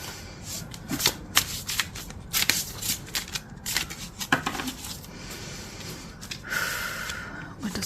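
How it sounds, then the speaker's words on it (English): Tarot cards are moved and shuffled by hand, producing a steady run of close, crisp riffles, slides and flicks with sharp snaps scattered throughout, fairly loud and continuous. "I'm just going to move these cards a little bit"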